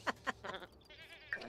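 Mini goats on a video game ranch give a series of short, nasal bleats, several close together near the start and more stretched, wavering calls later, loud and close with no talking.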